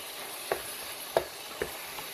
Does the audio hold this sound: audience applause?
no